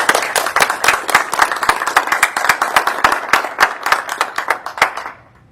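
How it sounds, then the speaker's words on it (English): A small workshop audience applauds a visiting speaker with crisp, distinct hand claps in a loose, fairly regular rhythm that thins out and stops just before the end. "please give him another round of applause"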